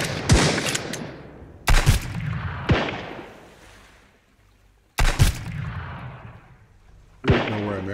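Gunshots in the survival game Sunkenland ring out in a handful of loud, sharp blasts, some fired in quick pairs. Each shot is followed by a ringing decay, and the bursts are separated by short pauses.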